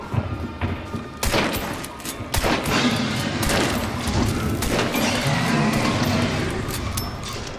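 Dense bursts of gunfire from the online shooter game Hunt: Showdown, with rapid overlapping shots and heavy booms sustained loudly through the whole stretch.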